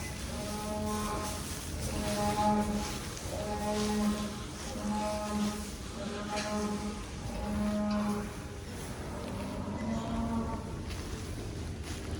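Holstein dairy cows and heifers on a Danish dairy farm moo in a steady series of drawn-out calls, several overlapping in a barn, fairly close and clear over a low background hum.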